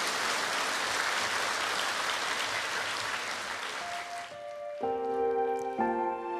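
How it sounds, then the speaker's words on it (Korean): Congregation applauding in welcome at a Korean Sunday church service for Disabled Sunday, greeting two visually impaired sisters: loud, dense clapping for about four seconds, then fading as sustained keyboard chords take over. "이분들께 환영의 박수를 한번 보내주시기 바랍니다"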